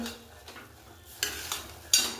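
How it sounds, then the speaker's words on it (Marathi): Black chickpeas being sautéed in a pan, heard as a soft sizzle under a few scraping stirs of a spatula, with louder scrapes near the end; brief and close, with no talking. "तर हे मी परतून घेते 1 ते 2 मिनिटं असंच।"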